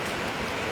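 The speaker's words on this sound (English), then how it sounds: "It started to absolutely piss down with rain" Heavy rain pouring down during a major flood in Benalla, a dense, steady hiss of downpour close by, continuous and unbroken through the brief moment.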